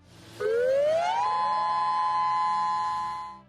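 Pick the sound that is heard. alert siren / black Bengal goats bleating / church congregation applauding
alert siren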